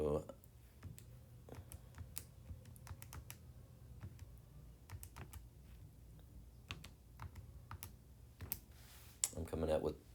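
Keystrokes on a computer keyboard, soft scattered clicks in irregular bursts while an answer is typed in, running beneath a low steady background hum.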